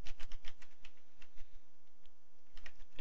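Quick bursts of typing on a computer keyboard, close and crisp, with clustered keystrokes at the start and a few scattered taps later, no voices present.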